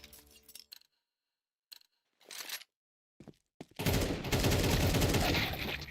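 Gunfire in a competitive video game match, heard as several short isolated bursts followed by a loud, dense stretch of sustained rapid fire for the last couple of seconds.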